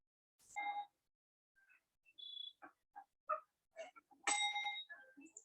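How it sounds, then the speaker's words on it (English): A bell rings repeatedly in short, separate dings with gaps between them, faint and sparse, with a few brief tonal chimes and clicks. "He rings the bell again."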